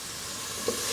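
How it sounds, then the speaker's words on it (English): Steady sizzling from food frying in a pot while cooking mlukhiyeh, a continuous crackling hiss with one small pop partway through. "we have got some nice sizzling here going on"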